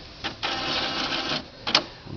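An Epson printer with a jamming print carriage powering down: a whirring mechanical run, then a sharp click and brief whir, close and fairly loud, with no talk.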